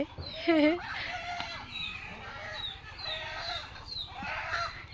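A chicken clucks and calls close by in a busy household setting, short bursts of clucking recurring over a few seconds while people talk in the background.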